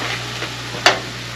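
Garlic cloves and onions in hot oil give a steady low frying sizzle, broken by one sharp stir or utensil tap near the end, with no voices.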